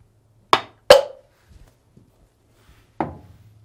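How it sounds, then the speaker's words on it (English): A hammer strikes a socket to free a stuck part from the rotor of a Samsung washer clutch assembly; three sharp metallic taps ring out close up, two in quick succession then one after a pause, with quiet clinks between. "use a socket and a hammer"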